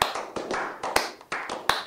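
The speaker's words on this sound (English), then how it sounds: "slow clap" Slow hand clapping, about eight sharp claps spaced unevenly at a slow, deliberate pace, close and clear with little else around them.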